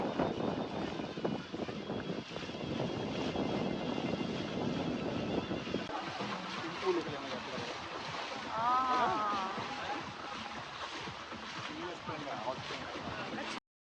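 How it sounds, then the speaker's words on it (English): A sunset cruise boat's engine drones over wind and sea noise near the volcanic island of Nea Kameni, rumbling steadily, while people talk faintly in the background. "As the boat moves again"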